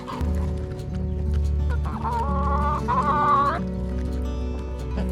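Chickens on a poultry farm cluck repeatedly and close by, with overlapping calls and a few louder, drawn-out squawks rising over a steady low barn hum.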